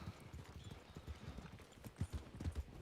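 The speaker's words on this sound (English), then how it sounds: "Mr. King, I see you have one of those merchant horses" An Arabian stallion merchant horse in a roleplay video game clops along with steady, quiet hoofbeats in an even walking rhythm, with no talk over them.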